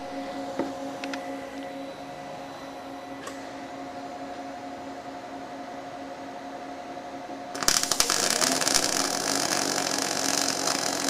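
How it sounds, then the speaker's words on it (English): A soft, steady welding arc from an EWM Phoenix welder with root arc technology starts abruptly partway through as a loud broadband hiss and crackle, following a quieter stretch of low shop hum. "You can hear how soft that arc is."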